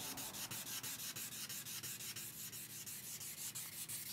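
A rusty axe head is sanded by hand with sandpaper, a faint, quick rhythm of rasping back-and-forth strokes repeating evenly, about five per second, with no voices.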